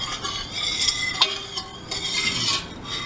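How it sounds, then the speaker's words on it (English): Sugar and jasmine jelly mixture stirred in a pot on the stove, with a steady scraping, swishing stir and faint sizzle, close and moderately loud, no talking. "I'm going to stir that and bring that up to a boil."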